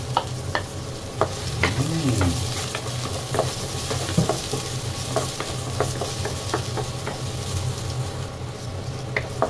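Garlic fries in a pan of oil with a constant crackling sizzle, broken by frequent scraping and tapping as a utensil stirs it.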